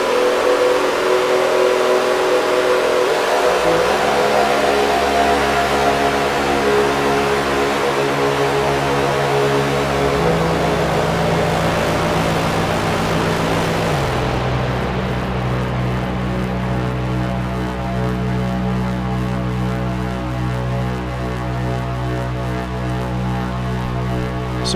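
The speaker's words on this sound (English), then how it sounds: "second output on the 259 going into the modulation input on the delay unit. So if I turn that up," A modular synthesizer patch with a Buchla 259 oscillator modulating a delay unit, producing a loud sustained buzzing drone whose pitch steps down in stages and turns harsher and more distorted partway through.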